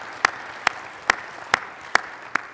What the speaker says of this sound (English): Let's also give them a round of applause.